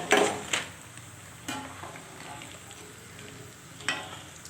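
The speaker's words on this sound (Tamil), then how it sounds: "இப்போ இதே மாதிரி நம்ம எல்லாமே எடுத்து பொரிச்சு எடுத்துக்கலாங்க." Thattai, crisp rice-flour snacks, deep frying in hot oil in a home kitchen, giving a faint steady sizzle with a few louder bubbling bursts and clinks.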